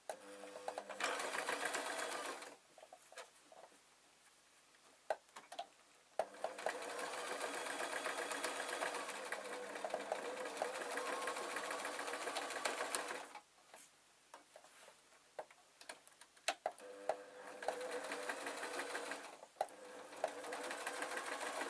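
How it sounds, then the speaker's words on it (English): A sewing machine stitches a tweed muffler with wadding and lining, a close steady mechanical whirr in several long runs separated by short pauses, with no talking. "let's place it in the sewing machine"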